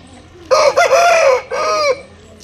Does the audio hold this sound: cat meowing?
no